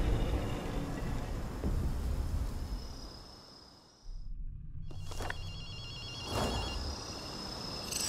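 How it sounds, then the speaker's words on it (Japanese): A telephone rings inside the game Ghostwire: Tokyo, a patterned electronic trill that cuts in after a brief drop in the noisy ambience and repeats a couple of times over a steady rumble. "アキト、電話の音が聞こえないか。"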